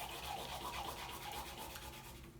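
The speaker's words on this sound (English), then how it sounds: "use the side of the crayon, and rub it across the paper" A crayon is rubbed hard sideways across newspaper in a soft, continuous scratchy scraping, close and fairly quiet, with repeated back-and-forth strokes and no voices.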